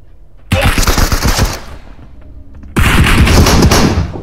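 Bursts of rapid automatic gunfire in a multiplayer shooter video game, one long volley followed by a short lull and then a second loud, sustained burst, close and dense.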